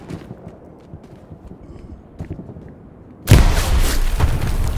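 A grenade goes off in the Hell Let Loose battlefield game: after a few seconds of quiet, muffled ambience, a sudden heavy blast hits close and loud, followed by a rumbling, churning tail.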